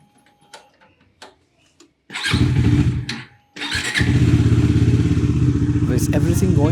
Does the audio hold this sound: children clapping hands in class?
no